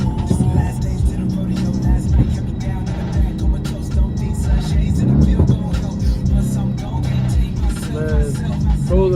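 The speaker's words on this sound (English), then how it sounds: "the way this engine just screams" A Mercedes C63 AMG driven hard, its engine and exhaust roaring loud and close throughout with a heavy low drone and rising revs near the end, under a voice.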